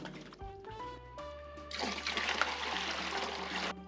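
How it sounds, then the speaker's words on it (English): Spring water pours into a big cooler to start a smoked-amberjack fish brine, a steady close gush and splash that begins after a few soft clinks and runs on loudly, with no talking. "First, we're gonna put in some spring water."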